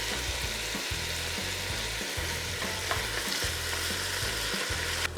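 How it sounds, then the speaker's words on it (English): Tomatoes sauté and simmer in a pan for a lasagna Bolognese, a steady close sizzle and crackle running throughout with soft stirring scrapes and low rhythmic thumps underneath, no talking. "we're gonna saute tomatoes, let them simmer for a bit, just like that"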